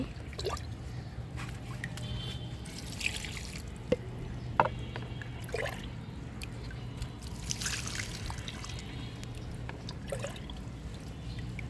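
Water with soaked banana peels, darkened by iron, trickles quietly from a container onto the roots of chili and eggplant plants in a rooftop garden, faint and steady with occasional drips and small knocks, no talk.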